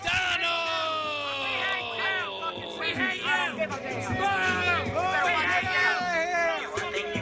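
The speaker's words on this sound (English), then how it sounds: "Nevon McDonald getting absolutely no love from the crowd." A wrestling crowd in Newburgh, New York yells, whoops and boos continuously at a ring owner, a dense roar of overlapping shouting voices filling the arena at steady volume throughout.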